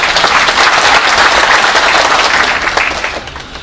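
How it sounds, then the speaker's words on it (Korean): Applause from a large audience at a Saenuri Party central committee policy forum in Korea on job creation and the creative economy, sustained dense clapping that is loud and steady throughout, tapering slightly toward the end. "여러분 큰 박수 부탁드리겠습니다."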